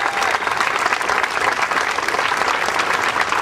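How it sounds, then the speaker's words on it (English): An audience at the Ohio State Fair opening applauds the All-Ohio Youth Choir and Band: a steady, dense wash of many hands clapping at even loudness throughout, with no talk over it. "Let's give them a round of applause."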